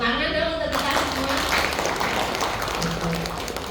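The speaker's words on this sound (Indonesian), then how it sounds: "Tepuk tangan dong untuk kita semua." An audience claps at a parenting seminar on stimulating children aged three to five, a broad patter of applause that begins right after a brief voice and carries on steadily at moderate loudness, with a faint tone mixed in.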